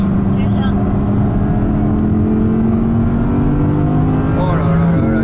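A 2018 Audi R8 with an S-Tronic gearbox accelerates hard around the Spa-Francorchamps circuit, its loud engine note rising steadily in pitch from inside the car before a quick shift near the end.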